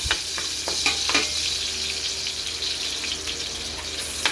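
Pancit canton noodles fry in a pan with a steady, close sizzle, broken by scattered crackles and pops and light stirring clatter, and no talking.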